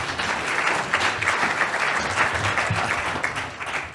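Audience at an insurance agency management showcase applauds an introduced guest, steady even clapping at moderate volume with no talk over it.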